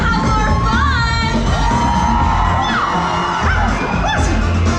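Children and a crowd aboard the Disney Fantasy cruise ship cheer, shout and whoop loudly together in a continuous, dense roar, with high yells rising above the din throughout.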